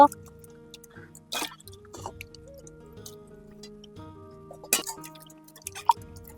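Cut teasel gourd pieces are washed in water, with close drips, small splashes and clinks of pieces against a bowl coming in scattered bursts, with no talk.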